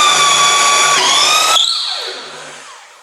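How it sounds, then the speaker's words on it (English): A power drill bores through wood guided by a perpendicular drilling jig, whining loudly and steadily, then pitching down briefly before the motor cuts out and spins down over the last second and a half. "The hole we've already drilled so far will guide it through the rest of the cut."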